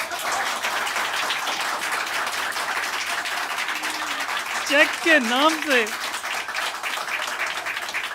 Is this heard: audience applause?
yes